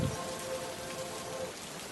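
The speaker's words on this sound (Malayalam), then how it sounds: "പറന്നു തുടങ്ങി അല്പം കഴിഞ്ഞപ്പോൾ മഴ ചാറാൻ തുടങ്ങി" Rain pours as a dense, steady hiss, a sound effect in a school radio story, with no voices over it.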